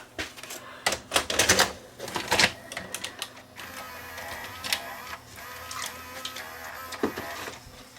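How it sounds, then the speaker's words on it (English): A Sony SLV-R1000 S-VHS VCR with an eject fault runs a color bar test tape, giving off a series of close mechanical clicks, clunks and whirring transport noises, busiest early on, then settling into a steadier hum with scattered clicks. "I'm just going to run another tape through here."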